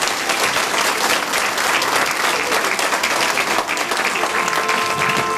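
An audience claps steadily for the author of a Sardinian-dialect theater comedy in Nurri, a dense, sustained applause filling the room with no break for the whole stretch.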